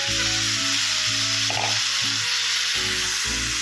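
Fish marinated in salt, turmeric and chilli powder fries in hot oil for a Bengali fish curry with potato, giving a loud, steady sizzle with bubbling crackle close by, layered over a low humming tone throughout.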